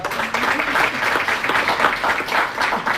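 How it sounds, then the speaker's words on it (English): A room of seminar attendees gives a round of applause, brisk clapping from a modest group that swells and pulses in loud waves for a few seconds, with some voices mixed in. "let's have one good round of applause for Amanda"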